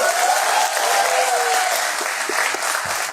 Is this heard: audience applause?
yes